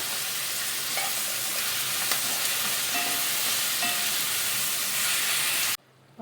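Onions and other ingredients with rock salt sautéing in a pan for a dhaba-style paneer mutter masala gravy, a dense steady sizzle with faint stirring clicks, stopping suddenly near the end.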